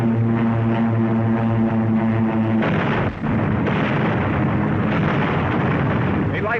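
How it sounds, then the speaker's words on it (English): Heavy rumbling blasts and crackling bursts of bombs exploding roll on continuously, dense and loud, with a droning hum early on, like a distant old 1943 wartime recording from North Africa. "Watch the plane. There go the bombs."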